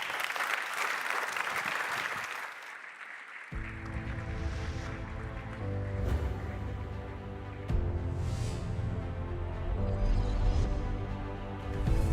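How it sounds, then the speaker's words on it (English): An audience at a conference event claps, starting as a burst of applause that fades into background music. "Another round of applause there."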